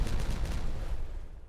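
Fireworks going off in the beaver city-building game Timberborn, a quick crackling volley of pops and bursts, loudest at first and then tapering away into a fading rumble.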